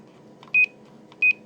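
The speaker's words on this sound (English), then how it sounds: "you can hear the Roger beep through the speaker anyways" Two short electronic roger beeps from a K-Po DX 5000 Plus CB radio speaker, about half a second apart, clear and moderately loud over a faint background hum.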